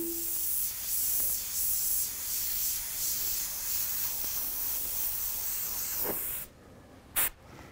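An airbrush sprays white paint in a steady, loud hiss over an airbrushed real-fire design, running continuously for several seconds before cutting off, followed by one short burst.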